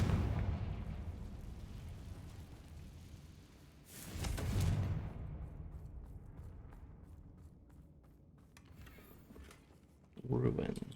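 The Confringo blasting spell in Hogwarts Legacy detonates with loud explosive bursts, one swelling blast mid-clip and another sharp burst near the end, over rumbling game ambience.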